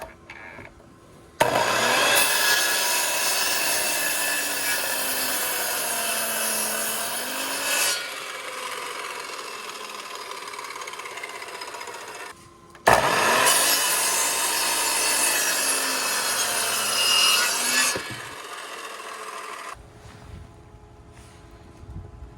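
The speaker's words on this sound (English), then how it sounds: "We're just going to cut the first side and then cut the remaining side." A saw cuts through a wooden 4x4 post for the corners of a raised garden bed planter, two long, loud, steady sawing passes separated by a short pause, with no talking.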